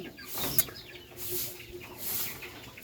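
Chickens clucking on a farm in the Cagayan Valley in the morning, a few soft, faint clucks and calls at a distance, spaced across a quiet background.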